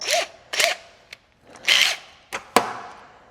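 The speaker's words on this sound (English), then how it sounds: "Once again, okay to use power tools for disassembly, not a problem." Power tool bursts while taking apart a Kawasaki ZX6R sportbike during a radiator and coolant job, five or six short close whirring runs with gaps between them, no talking.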